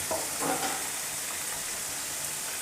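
Minced meat with turmeric fries in a pan with a steady close sizzle and a few stirring scrapes near the start.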